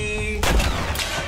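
Gunfire from a comedy action movie playing in a reaction setting: a sudden loud blast followed by a second sharp shot, harsh and close over steady background noise.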